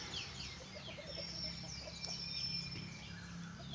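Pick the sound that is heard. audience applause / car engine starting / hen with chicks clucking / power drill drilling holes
hen with chicks clucking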